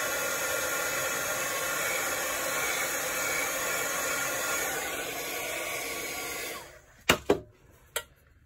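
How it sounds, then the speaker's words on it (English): A heat gun dries wet watercolor brush-marker ink on journal cards. A steady, loud blowing whoosh lasts about six and a half seconds, then cuts off, followed by a few sharp knocks. "I'm gonna pull in my heat gun. I need to dry this area."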